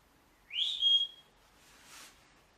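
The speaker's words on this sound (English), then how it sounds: "I'm going to whistle in this room right now" A single short rising whistle note, fairly clear and close, followed by a faint airy hiss; no talking.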